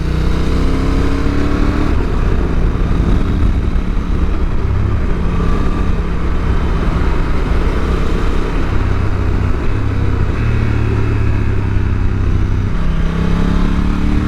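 A 2022 Honda NT1100 motorcycle being ridden and downshifted with its optional quick shifter, the engine droning loud and steady with shifting pitch over the rush of riding.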